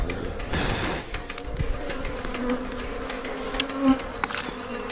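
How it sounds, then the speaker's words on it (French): Dense, steady buzzing of thousands of honeybees swarming around a wild hive during a honey harvest by Hadza tribe members in Africa, close and continuous with no talk. "Ce bourdonnement fort vient de milliers d'abeilles."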